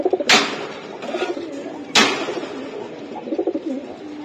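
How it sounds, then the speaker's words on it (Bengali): Giribaz pigeons coo nearby in repeated throaty bursts, broken by two sharp flapping or clattering sounds, with no talking. "এই যে দেন বন্ধুরা, কবুতরটা আমি দেখাই দিলাম"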